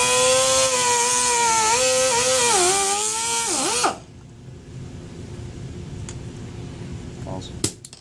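Sanding the sharp groove edge of a hydraulic shifting valve, starting with a loud, steady power-tool whir that wavers in pitch and stops abruptly midway, leaving a quiet room with faint clicks and a brief knock.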